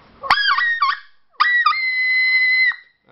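A goose call blown deliberately too hard so that it locks up, giving a few short honking yelps followed by one long, loud, steady high squeal that holds for more than a second before cutting off.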